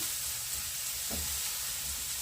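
Eggplant pieces frying in oil in a pan give a steady close sizzle with a soft stir partway through.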